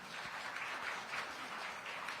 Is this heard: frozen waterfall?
no